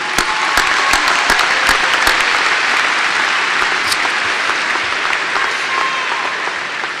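Sustained loud applause from a large crowd of about 6,000 at a 2017 high school graduation ceremony, steady clapping throughout with no talk over it.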